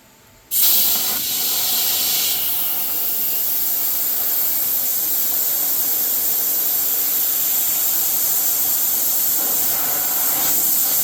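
Compressed air rushes loudly into a tire on a 1986 Suburban to seat the bead, starting abruptly after a brief quiet moment and then holding as a strong, steady hiss up close for the rest of the clip.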